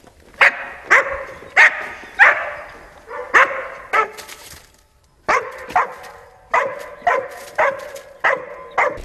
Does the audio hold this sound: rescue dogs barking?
yes